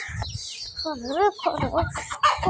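Chickens clucking close by at their coop, a quick run of rising and falling clucks and squawks with a person talking over them.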